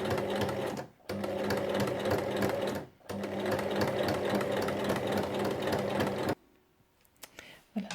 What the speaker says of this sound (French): je vais venir donc piquer tout le tour à 1 mm du bord pour refermer